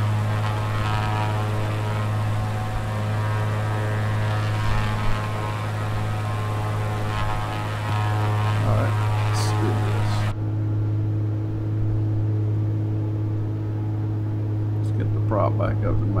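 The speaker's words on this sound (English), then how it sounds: "Prop back up to maximum RPM, put some power on it, build up some airspeed so we can maneuver." Propeller aircraft engine running steadily in a flight simulation, a constant droning hum with strong low tones throughout, with a shift in tone partway as power changes, under occasional talk.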